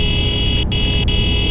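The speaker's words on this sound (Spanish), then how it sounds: "Este es el que estaba buscando, el claxon." The horn of a Setra 519HD coach in Fernbus Simulator sounds as a sustained, bright, car-like tone with two brief breaks, over a low steady engine rumble.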